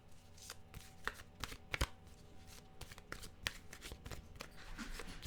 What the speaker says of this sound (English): Boy, these cards really feel like they need to get mixed up here for us.